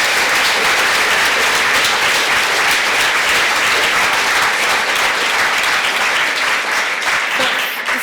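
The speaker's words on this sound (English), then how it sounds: "everybody should give the organisers a clap and say well done" An audience at a meeting in a Friends Meeting House claps for the organisers, loud and sustained, a dense wash of hands that holds steady before thinning toward the end.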